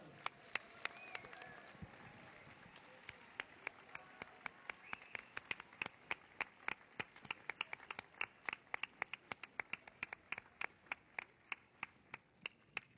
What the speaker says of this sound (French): Bravo Nicolas, on l'applaudit bien fort.